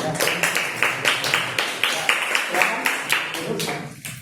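Students in a classroom clapping for a group's presentation, a fairly close, rhythmic round of hand claps in regular beats that trails off near the end, with faint voices underneath.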